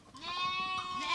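Sheep and lambs bleat in a village flock, one loud, close, wavering bleat that fills the moment with others faintly behind it; no talk.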